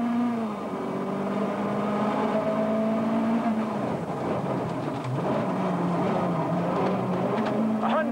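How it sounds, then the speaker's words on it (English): A four-wheel drive Citroën Visa rally car at a 1982 Scottish world rally stage drives hard from inside, its engine note roaring and shifting pitch through gear changes, loud and continuous with road rumble. "co-driving a rally car like Mark Lovell's four-wheel drive Citroën Visa is a high adrenaline, sweat-provoking experience"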